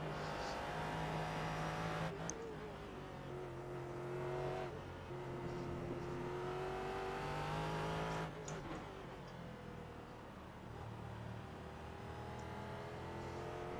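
Prototype race car engine in a racing video game, revving high and steady with sharp gear shifts and brief drops in pitch, loud and continuous throughout.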